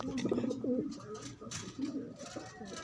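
Pigeons at a breeders' swap meet coo in soft, low, rolling bursts at close range. Background chatter and murmuring voices run underneath.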